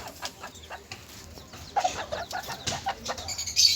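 Chickens cluck in a coop at a small farm raising Sebright chicks and hens, scattered soft clucks and short calls at moderate distance with no talk.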